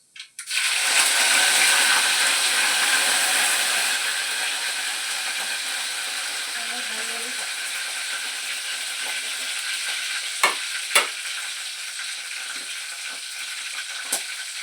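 Washed curry leaves hit hot tempering oil for rasam, bursting into a loud, close sizzle that settles into steady frying, with a few sharp pops and clinks of a spoon later on.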